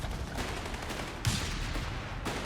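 Mortar barrage in Company of Heroes 3, with dense overlapping blasts and gunfire crackle rolling continuously, loud and close, and sharper impacts standing out near the middle and end.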